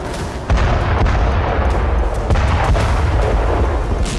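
Russian artillery strikes on a Ukrainian front line make a loud, continuous, deep rumble, punctuated by heavy booming blasts that seem close and overlapping, with no voices present.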